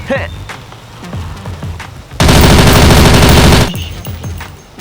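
A gun being test-fired at a shooting range, with a sustained loud burst of rapid automatic fire lasting about two seconds, preceded and followed by a few sharp single reports and some background voices.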